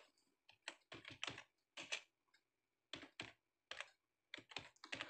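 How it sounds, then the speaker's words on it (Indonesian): Typing on a computer keyboard: irregular bursts of crisp key clicks, quick clusters separated by short pauses, close and fairly quiet with no talking. "Jadi di sini saya akan ketik"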